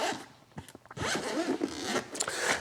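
The zipper on a BOSSCOMM IF745 scan tool carrying case is pulled open in several quick rasping strokes, close up, with short pauses and then one longer continuous zip.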